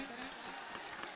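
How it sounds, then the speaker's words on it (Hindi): Faint, steady applause from a crowd welcoming a revered guest at an ashram in Vrindavan, a soft continuous wash of distant hand claps with no voices on top. "सुंदर तालियों के साथ आप श्री का स्वागत करें।"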